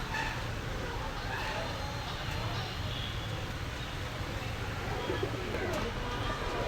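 A crowd of Pakistani high flyer pigeons at a bird shop gives a low, continuous murmur of cooing, with faint voices in the background.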